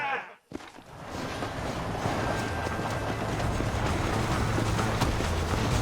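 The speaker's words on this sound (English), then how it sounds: "The train is getting away!" Train running in Red Dead Redemption, a steady rolling clatter and rumble rising after a brief lull and continuing loud to the end.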